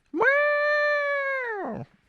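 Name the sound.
voice imitating a sustained horn intro note, sounding cat-like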